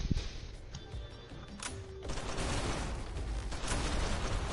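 Heavy gunfire rattles in the Gungrave G.O.R.E video game as big bullets are fired, a dense, fairly quiet burst of shots and mechanical clatter that thickens into a steady barrage.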